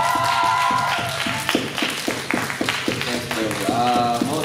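Fans clap at a BTS fan signing event, with a run of distinct, fairly close claps under ongoing talk from the people nearby.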